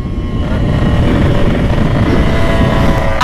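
A motorcycle fitted with an underslung exhaust drones steadily and loudly up close, its deep engine rumble holding throughout without a break.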